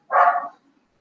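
A small dog, a neighbour's pet, gives a single short bark or yip close by, loud and brief, followed by quiet.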